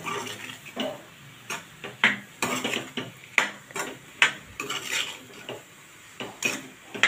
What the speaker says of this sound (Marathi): चवीनुसार मीठ घालूया. थोडं परतून घेऊया.